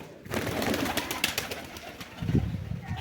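Pet pigeons cooing close by in a home loft: soft, repeated low coos layered over a few brief wing flutters, with no talking.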